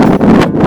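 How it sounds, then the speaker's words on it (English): Strong wind buffets the microphone during a bikepacking ride in Baja, a loud, continuous rumbling roar with brief dips in the gusts. "Wind sucks."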